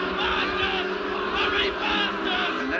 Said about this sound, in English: And no doubt hear the crowd's reaction to that.